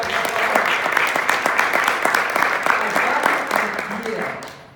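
Conference audience applauding steadily for several seconds, a dense wash of clapping that fades out at the end, with some speech faintly mixed in.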